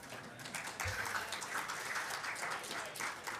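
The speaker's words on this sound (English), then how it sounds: "Give yourself a round of applause for that." Attendees at a higher education summit session clap briefly, a thin, scattered patter of hands at moderate level from a modest group.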